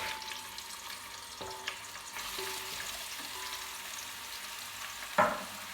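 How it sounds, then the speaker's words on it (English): Steady, quiet sizzle of meat browning in a frying pan, with a few soft clinks and a sharper clatter near the end. "just brown off the meat on both sides in the frying pan"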